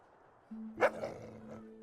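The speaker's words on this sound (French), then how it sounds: "Voilà un gentil chien errant en colère" A dog in the video game Fable II, a stray, gives one short bark over a low steady hum, followed by a softer growling tail, fairly faint overall.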